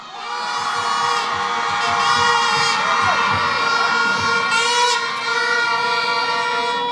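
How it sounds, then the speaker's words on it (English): A large crowd cheers and shouts steadily at an evening political campaign meeting in Sangre Grande, a dense, loud roar of many voices that swells and holds throughout, with shrill whistles or horn tones cutting through. "What a crowd here this evening."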